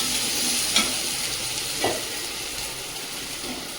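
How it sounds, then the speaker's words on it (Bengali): Pieces of taro fry in a new wok (kadai), giving a steady close sizzle with a few sharp scraping clicks of a spatula stirring through them; no voices. "কচুটা খুব সুন্দর করে ভেজে নিয়েছি"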